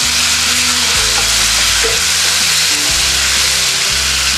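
Browned onion fries in a pan as tomatoes are stirred in for a chickpea-leaf gargati bhaji, a loud continuous sizzle close by with soft stirring knocks underneath; no talking.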